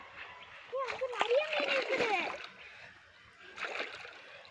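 Children's voices chatter and call out near water, with splashing and sloshing underneath and a pause before more activity.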